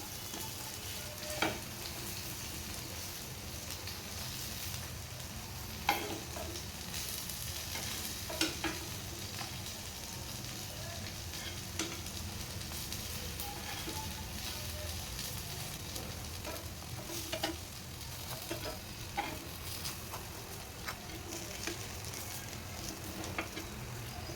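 Crispy brinjal slices fry in a pan, a continuous close sizzle broken by occasional scraping taps as the slices are turned over.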